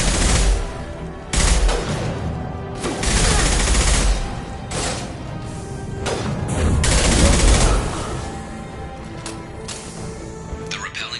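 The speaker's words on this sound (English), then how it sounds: "Firing an impact shot!" Heavy gunfire in the Mass Effect 2 Legendary Edition video game, loud and close, with dense sustained volleys and repeated bursts, some deep booming impacts, and voices speaking in the background.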